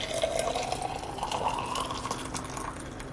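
Hot water pours steadily into a cup or bowl for making matcha, a continuous close liquid stream with rising pitch as the vessel fills, without talk.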